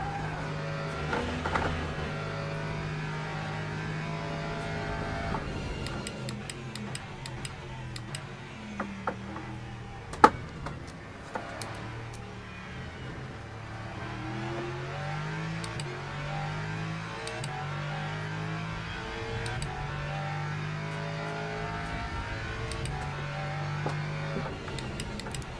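Fiat 850 TC race car engines drone steadily with shifting pitch as several cars pass at Thruxton in the video game Le Mans Ultimate, a continuous mechanical roar with occasional sharp clicks, no voices.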